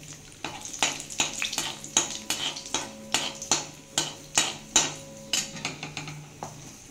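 Oil frying in a pan with a dried red chili added, a steady sizzle under repeated rhythmic metal scraping and stirring clatter, close and fairly loud.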